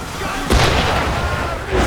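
A heavy boom of gunfire and explosion bursts out suddenly in the Assassin's Creed 3 game, loud and near, followed by rumbling din and a second thud near the end.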